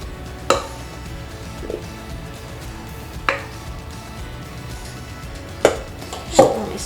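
Cauliflower pieces spread across a baking tray: a few sharp clattering knocks spaced seconds apart over a quiet background, with soft shuffling between them and no talking.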